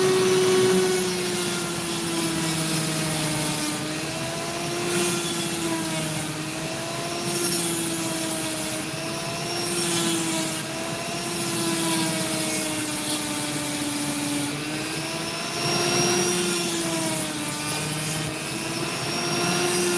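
A lapidary saw cuts the top off a rough opal, producing a loud, steady whining grind with a wavering pitch that rises and falls as the blade works through the stone.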